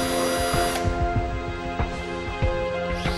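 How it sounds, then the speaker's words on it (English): A power drill boring 5 mm holes at each end of a crack in a plastic bumper, whining steadily and close up with repeated bursts of biting and grinding as the bit cuts through. "holes measuring 5 mm in diameter are first of all drilled at each end of the crack"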